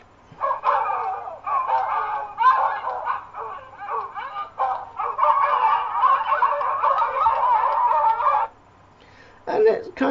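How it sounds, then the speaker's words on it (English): Several dogs bark and yelp over one another in a dense, continuous chorus, loud and close, breaking off briefly before a final burst. "You also have a dog pack."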